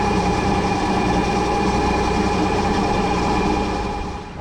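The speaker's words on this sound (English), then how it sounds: "The great thing about the electric motor is that there is no sound, basically." An electric motor on a sailboat runs at full power, giving a steady, even drone with a broad rushing hiss that stays constant before easing off slightly at the end.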